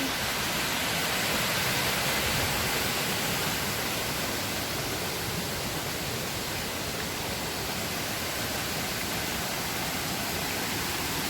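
Jet Khot waterfall in Saraburi, Thailand, gives a steady, broadband roar of falling water that stays constant throughout with no talking.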